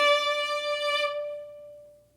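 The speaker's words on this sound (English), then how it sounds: "So if I wanted to play a nice, strong, long note, it might sound like this." A modern violin bowed with a Baroque bow sustains one strong, clear, bright note, and then the bow lifts and the tone rings on alone, fading softly.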